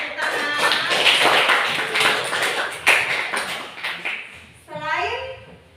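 Students clap together in a classroom: a lively burst of close hand claps and taps mixed with children's chatter, then the clapping fades and a voice is heard alone.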